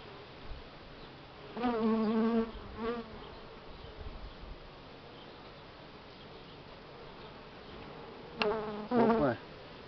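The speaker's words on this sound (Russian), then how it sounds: "Молодые пчелки вон бегают некоторые." Buckfast honey bees buzz around an open hive frame during an inspection, a steady low hum with a couple of louder, nearer passes as individual bees fly close by.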